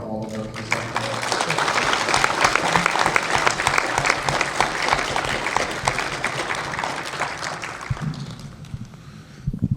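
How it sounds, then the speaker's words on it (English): A crowd claps steadily and loudly for several seconds, the applause thinning out slightly near the end. "Just a round of applause for Boyd for all the work he's done."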